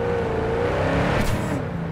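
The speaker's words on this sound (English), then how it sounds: "Oh, listen to that engine." A video game car engine revs steadily with a rising whine, loud and close, with a brief whooshing burst partway through and no voices.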